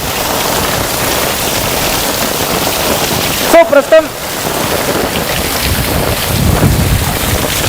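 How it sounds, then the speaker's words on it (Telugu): Heavy rain and gusting wind of a thunderstorm in Madhapur, Hyderabad, a steady loud roar throughout with a brief burst of rattling or tapping midway and rising gusts near the end, while someone talks over it. "సో మనం చూస్తున్నాం చాలా తీవ్రమైనటువంటి వర్షం అండ్ గాలి కూడా."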